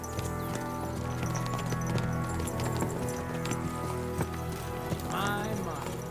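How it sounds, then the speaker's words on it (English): Horses' hooves clip-clopping in Kingdom Come Deliverance II, a busy scatter of overlapping hoofbeats from several horses over a low rumbling backdrop, with a brief whinny near the end. "What a lot of horses!"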